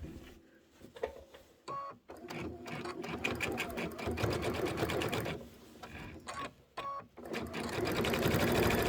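A sewing machine stitches the final assembly of a quilted Kimberbell project, running in steady bursts with brief pauses and clicks between them, close and fairly loud.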